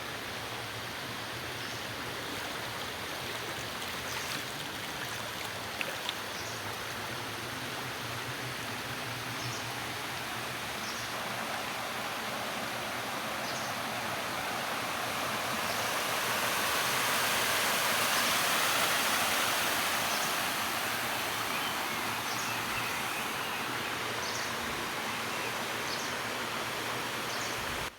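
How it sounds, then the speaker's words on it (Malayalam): A mountain stream flows continuously in quiet countryside, a steady even rush of water with faint scattered bird chirps above it, swelling slightly midway. "അവിടെ ആകെ കേൾക്കാൻ പറ്റുന്ന ശബ്ദം എന്ന് പറയുന്നത് ആ അരുവിയുടേതും പിന്നെ കുറച്ച് കിളികളെയും ശബ്ദം"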